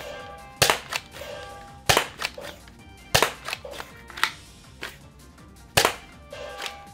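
A Nerf blaster fires foam darts at electronic arcade targets, making sharp, snappy pops in an irregular string of about eight close, loud shots with softer clatter between them.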